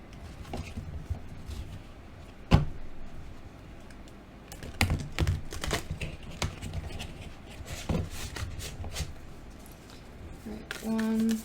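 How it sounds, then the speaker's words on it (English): A deck of Wild Unknown Archetypes tarot cards is shuffled by hand, giving soft papery riffles and scattered sharper taps and clicks spread irregularly across the stretch, fairly quiet and close. "let's shuffle these bad boys."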